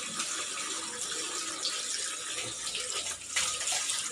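Water overflowing from a full storage drum makes a steady, close rushing splash that runs unbroken for several seconds, with a brief surge near the end.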